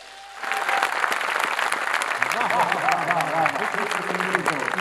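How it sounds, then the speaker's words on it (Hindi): A crowd at a Hindi comedy poetry show bursts into applause after a brief quiet start, a sustained wash of clapping with voices and cheers mixed in. "तालियां कमजोर है आपकी।"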